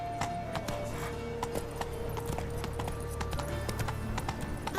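Roach the horse gallops in The Witcher 3, a brisk, steady run of hoofbeats with faint clatter behind, quiet and continuous throughout.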